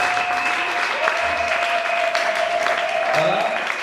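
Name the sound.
congregation applause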